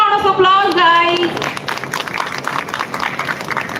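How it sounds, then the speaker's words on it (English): At a Sudarshan Pharma company event, a voice speaks briefly before an audience breaks into a dense burst of applause for a guest, which carries on steadily at moderate volume. "Give him a big round of applause, guys."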